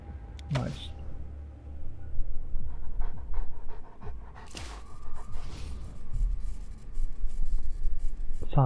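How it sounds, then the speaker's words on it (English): A puppy pants steadily in the video game Wasteland 2, rapid breathy huffs mixed with a busy game soundscape of rustles and thumps. "Puppy's following us."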